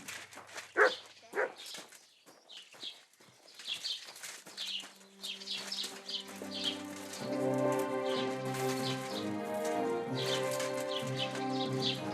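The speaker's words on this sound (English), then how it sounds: "silly doggy." A dog in the medieval video game Kingdom Come: Deliverance 2 barks in a few sharp, close yaps early on, with rain pattering around, before music swells and takes over.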